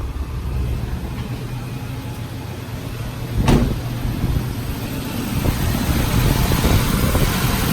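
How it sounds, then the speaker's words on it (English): 2009-2014 Nissan Cube idling with the air conditioning on full blast, its radiator cooling fan roaring as a steady, loud broadband whoosh over the low engine hum, with a brief click partway through and no talking. "So now I'm gonna turn it on and turn on the AC. AC on, full blast."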